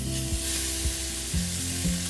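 Bacon and chorizo sizzle steadily in a pan, a constant close crackle with a few soft thumps as the pieces shift.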